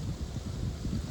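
Wind gusts outdoors on a breezy, warm day, buffeting the microphone with a low, uneven rumble that rises and falls without pause.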